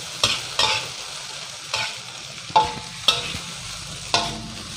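Rice with Chinese sausage being stir-fried in a wok over medium heat: a spatula scrapes and tosses in sharp, separate strokes about once a second over a faint sizzle, with no talking.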